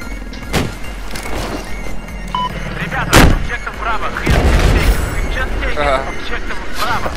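Battlefield 4 multiplayer gunfire: heavy booming shots and explosions crack out over continuous rumbling battle noise, with a player talking over the action.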